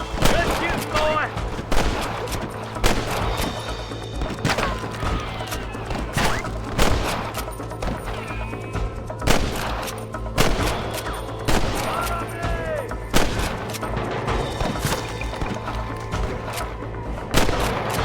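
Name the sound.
gunfire in Red Dead Redemption video game shootout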